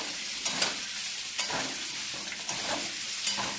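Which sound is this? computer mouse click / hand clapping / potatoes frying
potatoes frying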